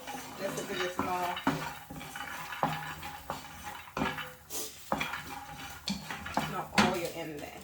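Metal spoon scrapes and clinks against a pan as vegetables for a prawn stir fry roast without oil, with repeated stirring knocks, a soft sizzle underneath and a voice speaking over it.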